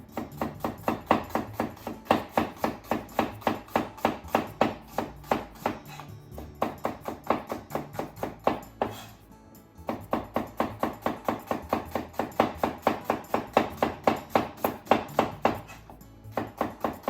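A knife slices a peeled, halved vegetable thinly on a cutting board in quick, evenly spaced close-up strokes, with two short pauses between runs of cuts.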